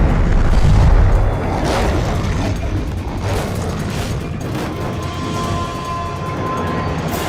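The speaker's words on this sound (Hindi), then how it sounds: "टारगेट उड़ा दिया गया है।" A target bridge blown up in an action film: a loud, deep boom that rolls into a sustained rumbling roar of debris and fire for several seconds, with no speech.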